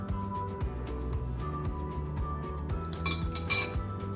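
A knife and utensils scrape and clink against a small metal pan while cutting tiny brownies baked in an Easy Bake Oven, with a few bright close taps and faint background music.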